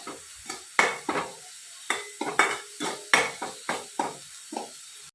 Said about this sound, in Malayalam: ഞാനിപ്പോൾ തേങ്ങാരപ്പ് ചേർത്തിട്ടൊന്ന് മൂപ്പിക്കുക